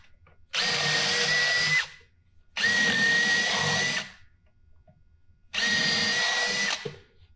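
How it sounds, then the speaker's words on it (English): Three loud bursts of a power drill boring into wood for stage platform legs, each lasting over a second, separated by brief quiet pauses. "I pre-drilled my hole. Now I'm going for the slightly bigger hole."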